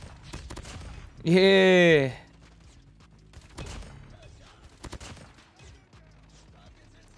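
Scattered gunshots from Call of Duty Mobile crack out as a few sharp, separate bursts in a team match, set under steady talk and one brief loud vocal sound.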